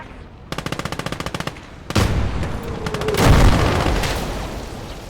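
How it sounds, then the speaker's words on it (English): An artillery cannon fires a shell in a battle: a loud boom with a long rolling tail follows a rapid burst of machine-gun fire, and a second heavy blast swells soon after. "And another one from that artillery."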